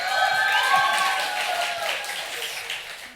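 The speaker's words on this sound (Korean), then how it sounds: "우리 한번 박수로 환영하겠습니다" Applause from a church congregation welcoming a guest speaker to a testimony service, a dense wash of clapping that starts strong and slowly tapers, with a high voice-like tone sliding above it early on.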